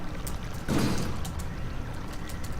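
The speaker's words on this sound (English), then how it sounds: "Now we should hear water" In the video game Myst, water runs from a pumped valve, heard as a soft, steady pouring trickle with a brief fuller gush near the start, fairly quiet and with no voices.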